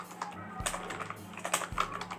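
Rapid clicks of keys on a computer keyboard as a command is typed at a Linux terminal, a close, steady patter of taps with a couple of firmer keystrokes standing out.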